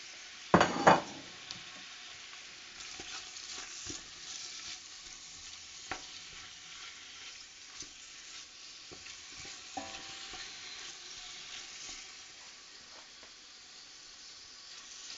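Meat sizzles and fries in a hot stew pot while being stirred, with a loud clatter at the start as it goes in, then steady low frying hiss broken by occasional scrapes and knocks of the utensil against the pot.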